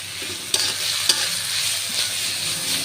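Washed dried fish fry in a hot pan with a dense, continuous sizzle and crackle, broken by two sharp utensil clicks in the first second.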